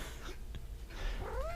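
A cat vocalizes close by, a short rising meow with a brief growly edge.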